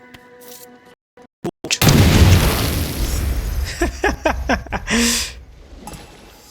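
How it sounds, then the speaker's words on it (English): Oil jars blowing up in Assassin's Creed Shadows: a few sharp clicks, then a heavy booming explosion with a long crackling, rumbling tail and several shorter burst-like bangs that fade into quiet. "There's some oil jars here. By exploding them, it most likely take out all of these enemies at one time."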